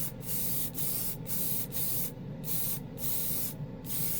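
Dark gray primer paint sprayed from an airbrush or spray gun in a run of short hissing bursts, roughly six or seven close, even pulses with brief gaps between them.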